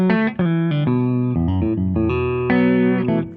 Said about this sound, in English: So position 1 and position 5 will sound like this as humbuckers.